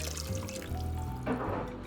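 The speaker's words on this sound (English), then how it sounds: "I decided to add about a cup more water" Water poured from a cup into a pan of beef stroganoff with mushrooms and onions, a steady close liquid stream and splash lasting under two seconds, with a brief louder sizzle near the end.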